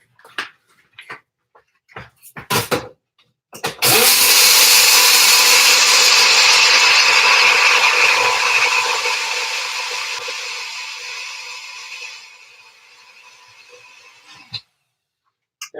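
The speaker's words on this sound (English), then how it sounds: "I'm going to grind really quick." An electric grinder whirs at full power through a sticky vegan mixture, a loud close motor roar that starts abruptly, holds steady for several seconds, then gradually eases and drops before stopping, with brief knocks and handling clatter before it starts.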